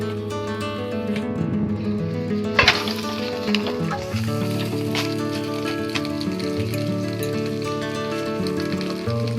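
Meat wrapped in banana leaf sizzles and fries steadily in a kadai, a close, continuous crackle with a brief louder burst as the parcel is set down into the hot oil.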